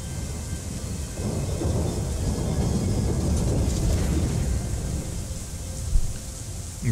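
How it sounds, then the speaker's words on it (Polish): Thunderstorm with rain in the video game Syberia The World Before: a dense, steady downpour hiss with deep rolling thunder rumbling underneath, continuous and loud throughout. "Dojeżdżamy w samą burzę. Widzę deszcz."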